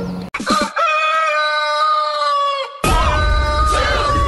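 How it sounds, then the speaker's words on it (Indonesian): A rooster crows loudly and close, one long drawn-out call, followed by a burst of noisy squawking and clucking. "Ini ayam teman-teman"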